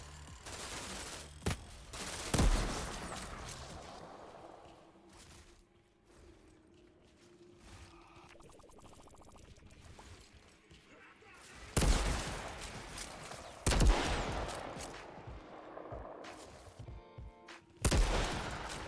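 Rifle gunfire in the video game Outriders, a Devastator build, comes as loud bursts of shots separated by quieter stretches with mechanical clanks and creaks.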